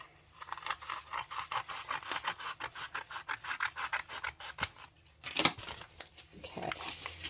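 Scissors cut through padded envelope packaging from an Amazon mailer for a craft journal cover, making a close, steady run of rhythmic rasping snips. A louder crunch follows near the end.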